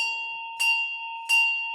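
Two bright bell strikes about 0.7 seconds apart ring out over a steady electronic tone as an advertisement jingle, each with a shimmering, lingering decay.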